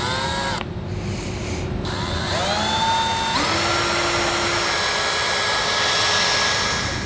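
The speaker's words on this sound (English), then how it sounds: "we're going to make new holes for our new hardware." An electric drill bores new holes for an ATV winch fairlead on a 2004 Polaris Sportsman, a steady loud whine running throughout, with the pitch dipping and rising as the bit bites and cuts through.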